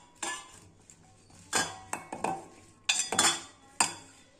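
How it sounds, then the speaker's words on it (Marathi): A spoon scrapes and clinks in a pan, mixing masala into a tadka, with several separate stirring strokes that sound close and fairly quiet. "सर्व या तडक्यामध्ये घालून घेतलं आहे आणि मिक्स करून घेते"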